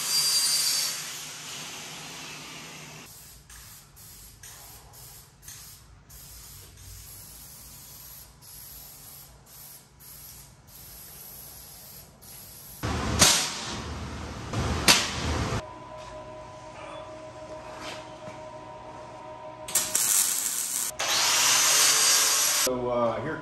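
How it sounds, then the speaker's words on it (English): A wire wheel on a power tool scrubbing welds on a steel smoker trailer, heard in loud harsh bursts around the middle and end of the clip. Quieter shop noise fills the gaps between bursts. "all I gotta do is run the wire wheel over that and it cleans it right up"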